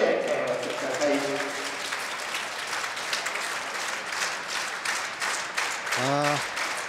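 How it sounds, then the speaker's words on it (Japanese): Rhythmic clapping from the audience at the final of a women's professional bowling championship, a steady beat of hands in time that runs under a commentator's voice, which is heard at the start and again at the end. "どうぞそれでは最後の一投手拍子でお待ちください。"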